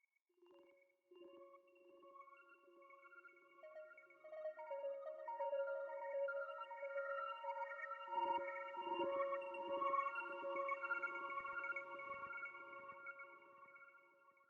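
A synthetic, tonal texture from an OP-1 with layered sustained pitches swells slowly, drenched in echo and reverb, with faint rattling flutter in the middle before fading.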